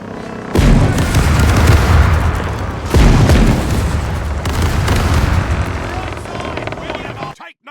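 Cannon shots boom from a ship in a pirate-era naval video game, two heavy blasts with long rumbling tails that fill the clip loudly.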